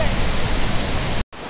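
A jungle stream rushes steadily with a loud, broadband roar of flowing water, close by and continuous, breaking off briefly near the end.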